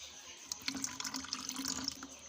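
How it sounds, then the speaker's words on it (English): Running water splashes and gurgles steadily inside a bottle being rinsed clean on a chick-brooding poultry farm, with close intermittent sloshes and drips and no talking. "So I'm just trying to clean up the bottle."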